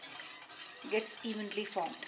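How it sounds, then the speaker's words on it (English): A whisk stirs milk into a pasta sauce in a pan, soft scraping and sloshing strokes, faint and close under a person's speech. "And I'll keep whisking this so that it doesn't form any lumps"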